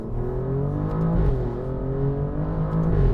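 An Alfa Romeo Giulia Quadrifoglio pulling hard, its engine note climbing steadily with a brief dip as the automatic gearbox snaps through a shift, heard from inside the car at moderate loudness with no talk.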